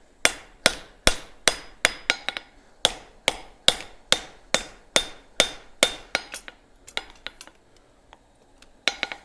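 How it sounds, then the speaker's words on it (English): Hot steel bar stock hammered on an anvil to add facets: a steady run of loud, ringing metallic strikes at an even pace, then a few lighter, scattered taps. "So I'm adding hammer facets here to the top portion of this bar stock."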